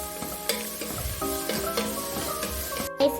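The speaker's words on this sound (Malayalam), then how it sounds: "സവാള ബ്രൗൺ ആവണം കേട്ടോ ഗൈസ്. മീഡിയം ഫ്ലെയിമിലാണ് ചെയ്യേണ്ടത്." Sliced onions fry in oil over a medium flame, a continuous sizzle broken by several scraping stirs of a spoon, close and clear with no talking.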